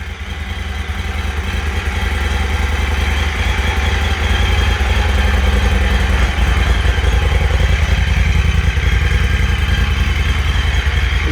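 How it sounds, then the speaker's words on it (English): A 2010 Moto Guzzi Griso 8V V-twin engine with about 10,578 miles idles close by with a loud, steady, lumpy burble and a low throbbing rhythm that holds even throughout. "Got a real nice burble to it. And I love how the bike rocks when you give it a little bit of a rev."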